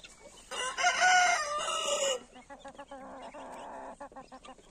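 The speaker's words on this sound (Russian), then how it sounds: "Вот такая вот наша курочка." A hen on a small farm clucks and squawks loudly close by in a rising, warbling burst, then settles into a run of short, clipped clucks.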